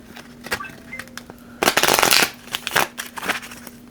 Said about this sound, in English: now I want to just go shuffle cards.